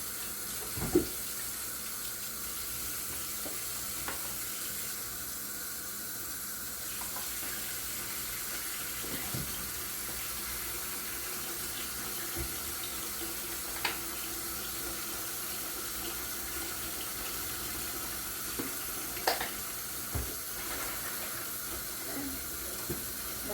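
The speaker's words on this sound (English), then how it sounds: "I'm gonna get me some sink water started." A kitchen sink tap runs steadily while dishes are washed, a constant close hiss of flowing water with occasional clinks of dishware breaking through.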